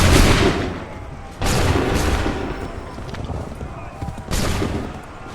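Musket volleys crack out in Assassin's Creed 3, three loud broad bursts of massed gunfire spaced a couple of seconds apart, each trailing into a rumbling battlefield wash.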